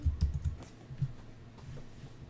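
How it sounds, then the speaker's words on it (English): Quick, light keystrokes clatter on a computer keyboard in a short burst, then fall to a few scattered taps against a quiet room. "I can just click anywhere and start typing as well"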